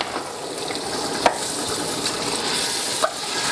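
Diced tomatoes are stirred into a pot for an Italian dinner sauce, making a constant close sizzle and bubbling hiss marked by two brief clinks of the spoon.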